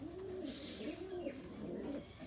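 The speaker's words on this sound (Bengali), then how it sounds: "এটা হলো আমার সৌরফাটা একটা কবুতরের খামার" Several pigeons on a pigeon farm coo in soft, repeated rolling calls, overlapping in a quiet, continuous murmur with faint chirps in the background.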